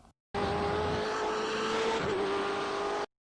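A BMW M8 GTE race car in iRacing holds full throttle at Road Atlanta, its engine a loud, steady high-pitched drone that barely changes across the whole clip, with a faint scrub of tires near the end.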